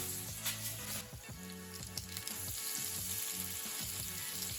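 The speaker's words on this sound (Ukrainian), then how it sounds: "Коротше, як наші пельмені от піджарились до такого золотистого кольору, додаємо наш чеснок і цибулю" Pan-fried dumplings crackle and sizzle steadily as garlic and onion go into the hot pan, with a dense continuous frying hiss and light stirring bumps, over background music.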